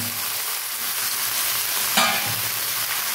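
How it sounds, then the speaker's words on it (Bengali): Malabar spinach, pumpkin and potato sizzle steadily in a frying pan while being stirred, a continuous close hiss with a brief scrape of the spatula partway through. "এইভাবে আমি নাড়তে থাকবো।"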